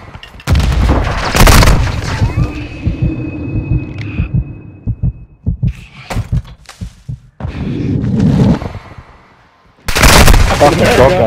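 A shotgun fires in a video game, a few heavy booming blasts, loud and close, separated by quieter gaps with faint clicks and movement.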